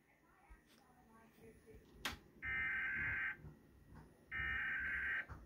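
Two long, steady electronic alert tones, each about a second, sound over quiet background noise after a sharp click.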